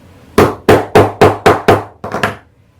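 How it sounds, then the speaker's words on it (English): A small hammer taps a metal snap fastener into a sewn lunch bag, six sharp close strikes in steady rhythm followed by two or three quicker, lighter taps, loud and alone with no talk. "And I just use a little hammer,"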